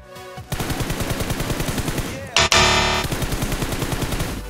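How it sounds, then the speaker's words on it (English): An M416 rifle in PUBG fires in rapid full-auto bursts, each a dense run of loud shots. A brief pause and a louder echoing volley come in the middle. "you will learn the secret on how to do accurate M416 burst sprays"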